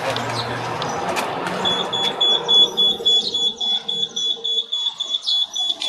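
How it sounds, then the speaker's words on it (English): A small electronic buzzer wired into a classroom circuit demonstration sounds a steady, high, continuous tone that starts partway through and holds to the end, over faint room noise and some talk early on. "Did you demonstrate the buzzer?"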